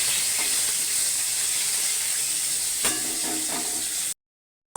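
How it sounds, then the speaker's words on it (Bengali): Koi fish frying in oil in a kadai while being flipped: a constant hiss of sizzling oil with a sharp utensil knock near the middle and a brief flare of spitting, then sudden silence. "মাছটা উল্টে দেবো, মাছটা হালকা করে ভেজে নেব।"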